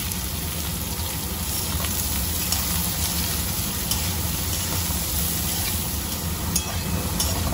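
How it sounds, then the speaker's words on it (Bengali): Soybean chunks fry in mustard oil alongside potatoes and pointed gourd, giving a dense, steady hiss and crackle that fills the whole stretch close up, with no voices. "এর মধ্যে আমি সয়াবিনটাও ভেজে নেব।"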